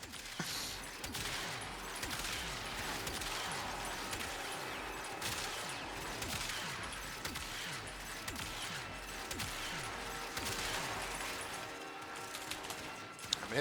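Dense gunfire and mechanical weapon noise from the Warframe video game, a continuous busy stream of shots, impacts and clanks at steady loudness across the whole stretch, with faint speech mixed in.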